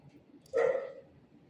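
A dog gives a single short bark, close by and brief, over a quiet room background.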